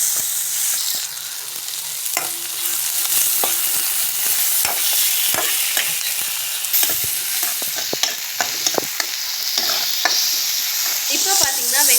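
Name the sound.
onion and tomato frying and being stirred in a pan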